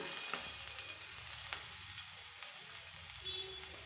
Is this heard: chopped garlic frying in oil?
yes